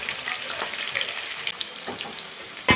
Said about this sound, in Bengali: গ্যাসে কড়াই বসিয়ে তেল দিয়ে তাতে সামান্য হলুদ দিয়ে আমি কেটে রাখা আলুগুলো উল্টে পাল্টে লাল লাল করে ভেজে আমি তুলে রাখবো